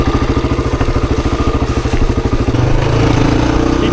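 Honda XR dirt bike engine, an XR250 or XR400, under steady throttle on a trail loop, with a rapid pulsing four-stroke thump that shifts into a smoother, louder drone partway through.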